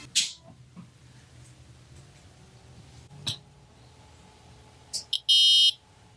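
A Gotek floppy drive emulator with a sound mod in an Amiga gives short electronic buzzing beeps and a loud sustained tone near the end, with faint clicks and quiet hum in between.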